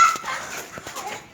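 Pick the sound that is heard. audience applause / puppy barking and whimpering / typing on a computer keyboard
puppy barking and whimpering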